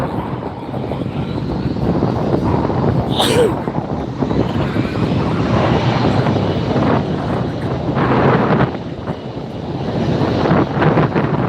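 Delta airliner at LAX airport, a loud, sustained jet engine roar close by that holds steady and swells slightly, with faint voices underneath.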